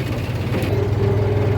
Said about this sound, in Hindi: ये रहा अपना दूसरा ट्रैक्टर